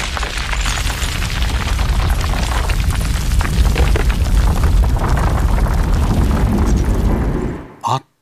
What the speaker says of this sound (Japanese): パーシーが見えなくなった瞬間、岩が次から次へと落下してきた。